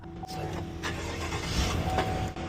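A Chevrolet Silverado pickup with a misfire and a suspected cam or lifter fault cranks and fires up, settling into a steady, fairly loud idle rumble heard close by.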